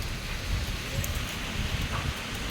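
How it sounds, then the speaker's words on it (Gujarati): A windstorm without rain blows over farmland in a steady, dense roar, loud and close with slight surges, and no voices. "જો કેટલો પવન સાથે વરસાદ તો નથી, વાવાઝોડું છે ખાલી."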